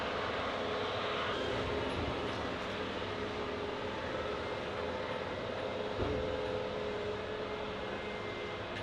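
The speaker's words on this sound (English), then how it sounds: "There's a tractor going by somewhere." Steady low engine rumble of a tractor from a distance, passing somewhere out of sight, drowning the quieter surroundings.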